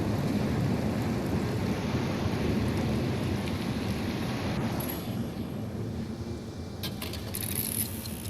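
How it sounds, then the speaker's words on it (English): In the video game Déraciné, a thunderstorm brings a steady, dense wash of heavy rain, with a low rumble of thunder rolling beneath it and a few faint clinks near the end. "What a terrible storm."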